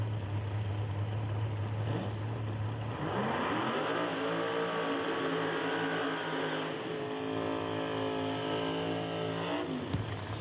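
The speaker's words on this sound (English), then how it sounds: "completing the burnout in the very loud, very fast Chevrolet Nova" A very loud, very fast Chevrolet Nova race car does a burnout at a drag strip, its engine roaring steadily and climbing in pitch for several seconds before cutting off sharply near the end.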